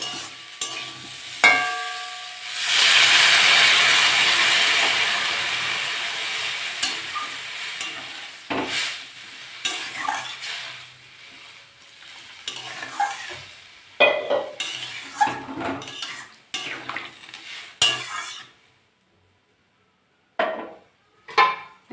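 Vegetables with small crabs and shrimp stir-fried in a pan, a steady sizzle swelling early then broken by repeated scraping and clattering of a spatula against metal, ending in a short quiet gap before more stirring.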